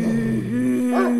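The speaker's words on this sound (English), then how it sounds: "Dog is whining, like it's afraid of something." A dog whines and whimpers as if frightened, a short, close, tonal cry that wavers briefly and stands alone without talk.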